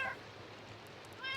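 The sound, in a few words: cats meowing in Minecraft video game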